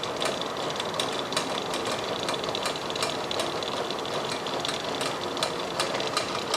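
An engine block boring tool's motor runs in reverse, a steady mechanical whir with a rapid rhythmic clicking and knocking pulse close by, constant and unbroken, with no talking.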